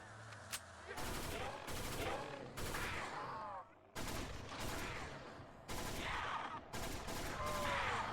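A DP-27 light machine gun fires in Roblox Project Lazarus in several long automatic bursts with short pauses between them, each a loud, rapid string of shots against a zombie game backdrop.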